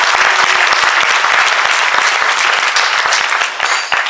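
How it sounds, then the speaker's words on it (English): An audience at an award dinner claps in dense, sustained applause, loud and close, easing slightly toward the end. "Let's give them a round of applause."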